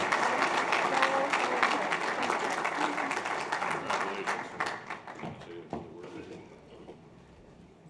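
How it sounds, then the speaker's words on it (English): An audience at a Bean Day conference session applauds a featured speaker, with dense clapping that thins out and fades over the last few seconds as scattered claps and murmurs remain. "Please give us a round of applause for all her hard work she does for us."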